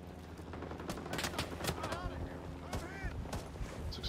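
Distant, fairly faint rifle and machine-gun fire in Rising Storm 2: Vietnam, scattered sharp cracks over a steady battlefield rumble, with some chirping tones and voices in the mix.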